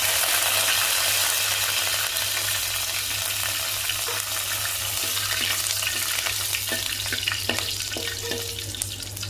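Curry leaves sputter and crackle in hot oil for a Tamil-style mutton curry, a dense steady sizzle close up with scattered pops and a constant low hum beneath, no voices.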